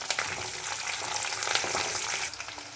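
Curry leaves, garlic and dried red chillies fry in hot oil for poha chivda, a loud close sizzle with stirring scrapes running throughout, no voices.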